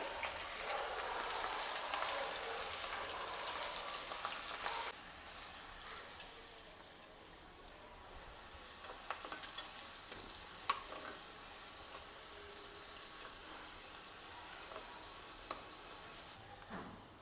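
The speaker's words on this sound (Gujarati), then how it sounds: "લાલ મરચાં પણ સરસ તળી લેશું" Red chillies frying in hot oil for a homemade poha chivda, a soft continuous sizzle and bubbling that eases after the first few seconds, with faint scattered pops and a light stir clink, no voices.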